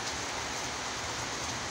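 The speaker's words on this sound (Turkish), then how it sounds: "Çok güzel yağmur." Steady rain falls in a village, a dense, even patter of drops on surfaces filling the short stretch with no voices.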